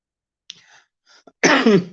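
A lingering cough from someone getting over a mild illness: faint throat sounds at first, then one loud, close, rough burst near the end.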